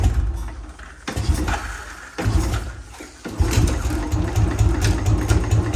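A Royal Enfield Bullet motorcycle engine running just after a cold start, a loud low thumping idle that steadies, with a couple of revs rising and dropping before it settles into a stronger, louder idle.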